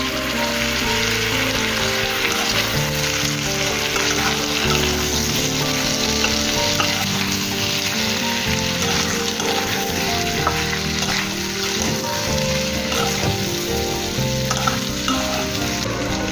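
Turmeric and Kashmiri chili powder fry lightly in oil for aloo katli, making a steady, loud, continuous sizzle with soft stirring scrapes throughout and no voices.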